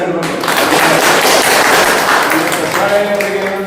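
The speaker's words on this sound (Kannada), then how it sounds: "ಎಲ್ಲರೂ ಒಂದು ಜೋರಾಗಿ ಚಪ್ಪಾಳೆ" Loud, sustained applause from the audience fills a district-level meeting of the Karnataka State Adi Jambava Sangha in Vijayapura as many hands clap steadily in a continuous, dense wash of sound.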